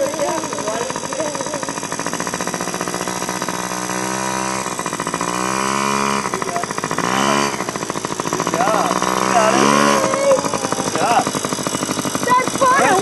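A child's Yamaha PW50 minibike running close by, its small two-stroke engine buzzing rapidly and continuously with revs rising and dipping, while people talk over it.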